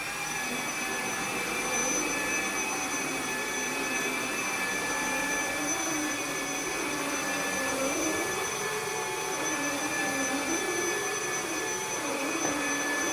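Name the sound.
cordless wet dry vacuum on max mode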